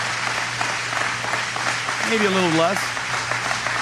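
A standing audience applauds steadily in a long, dense, unbroken wash of clapping, with a person talking briefly over it.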